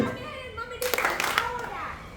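A group dancing to a counted step routine claps hands in a quick cluster of sharp claps, with children's and adults' voices talking around them.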